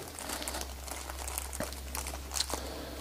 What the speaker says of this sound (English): So we're going to remove these from the packaging.